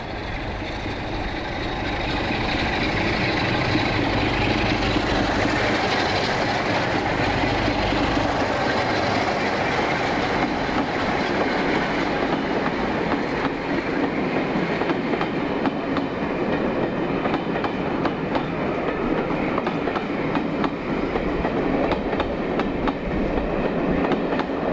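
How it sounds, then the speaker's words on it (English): A pair of Class 47 diesel locomotives, D1924 and D1935, power away from Paignton with a steady heavy engine roar and rumbling wheel noise, loud and continuous, with faint clickety-clack as the train passes. "D1924 Crew Diesel Depot and D1935 Roger Hoskin MA power away with the return working back to Ely"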